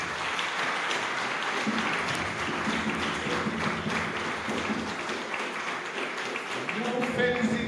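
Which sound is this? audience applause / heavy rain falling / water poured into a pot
audience applause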